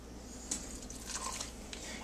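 Crumbly taco dough being worked in a bowl gives faint, soft crunching and squishing textures, a few brief gritty crackles over a quiet room background, with no one speaking.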